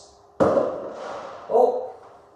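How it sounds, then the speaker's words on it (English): Fireworks bursting outside open windows, two dull booms about a second apart, the first sharp and loud, the second softer, heard from indoors. "Oh, we've got a fireworks display."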